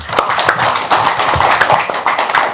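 A small audience at a religious talk claps in loose, uneven bursts, with individual hand claps standing out close by amid a few shuffles.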